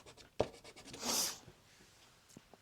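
Soft pastel rubs across paper in a floral tulip drawing, a quiet scratchy swish with one longer stroke and a few light taps, close and faint.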